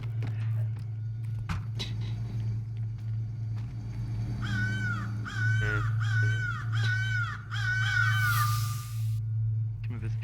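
Repeated harsh raven caws in the video game Secret Neighbor, a rapid series of rising calls in a row over a steady low game hum.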